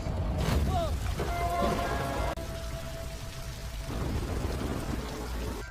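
Rain pouring during a night roadside scene in the Indian film Taxiwaala, a dense steady hiss of falling water with a few sharp effect sounds early on.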